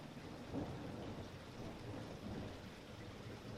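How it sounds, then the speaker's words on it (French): Steady rain and a rumbling thunderstorm outdoors in Calpe, Spain, a dense continuous wash of rainfall with low rolling thunder swelling and easing, fairly quiet and distant, with no voices. "c'est sous la pluie"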